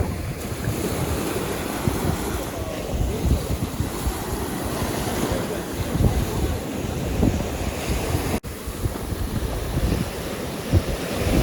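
Sea waves surge and wash up onto a beach in the Odesa region in a continuous roar, mixed with heavy wind buffeting the microphone, loud and near, with no talk.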